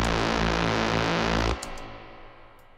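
A dense, buzzy techno synthesizer tone with a slowly opening filter sounds loudly, then cuts off abruptly, leaving a reverberant tail that fades gradually into quiet.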